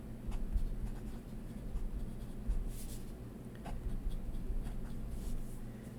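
A TWSBI Eco fountain pen with a 1.1 stub nib writing on paper, a soft, close, continuous scratching with brief strokes and pauses, faint and alone.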